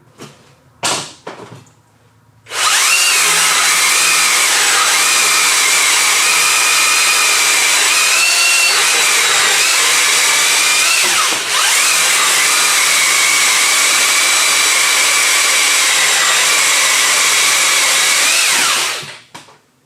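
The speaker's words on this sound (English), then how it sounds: "we have more than enough power to cut stuff with this pole saw" A Milwaukee cordless pole saw with a full-chisel chain cuts wood. A couple of short bursts give way to a loud, steady motor whine held close for about sixteen seconds before winding down.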